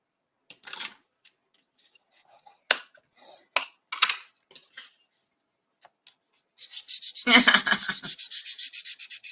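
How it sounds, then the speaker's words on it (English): Scattered soft scrapes and taps come first, then sandpaper rubs a burnished card flap in quick, even back-and-forth strokes, close and fairly loud. "And we've burnished this one, and I do want to sand it."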